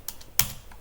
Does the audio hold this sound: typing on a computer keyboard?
yes